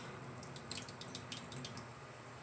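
Water runs from a pipe fed by a booster motor pump, a faint steady wash with a few brief drip-like splashes, no voices.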